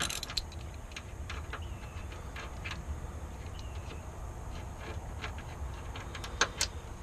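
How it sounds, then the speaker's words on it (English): A ratchet with a 15mm socket works a bolt loose from the rear IRS subframe of a 2017 Ford Mustang GT350, a run of sharp metallic clicks and clinks with brief bursts, near and without talk. "I'm using a 15mm socket to get this bolt out"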